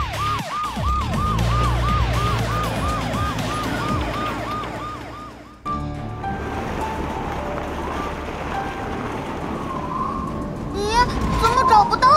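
A cartoon police car sounds a rapid, rising-and-falling wail, loud and close over engine noise and music for about five seconds. Then it stops abruptly and an animated action scene with rumbling and chimes follows.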